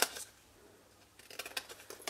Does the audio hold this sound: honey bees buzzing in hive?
no